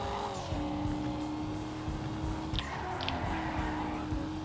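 A Coquette D1 sports car in GTA 5 powers downhill through a curve with its engine roaring steadily and close. Brief tire squeals break through as it slides, and no one speaks.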